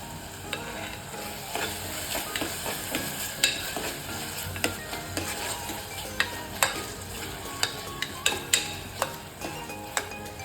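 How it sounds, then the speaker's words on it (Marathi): Ginger garlic paste sizzles in hot oil with a steady frying hiss, while a spoon stirs it and knocks sharply against the pot again and again. The stirring is close and grows more frequent toward the end, over a continuous sputter. "आता आपण ह्यामध्ये टाकणार आहोत आलं लसूणची पेस्ट"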